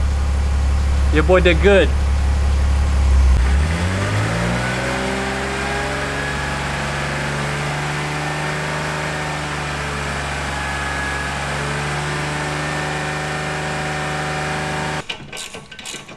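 A rebuilt BMW E46 engine cranks and catches, then settles into a steady, smooth idle heard up close, with a brief spoken remark at the start.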